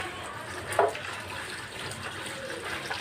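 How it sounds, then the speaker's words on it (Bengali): Running water rinsing Malabar spinach leaves in a kitchen, a steady close splashing flow with one brief louder splash, and no talk. "এর মধ্যে নিয়ে তারপরে যে আবারও ভালোভাবে ধুয়ে নিচ্ছি"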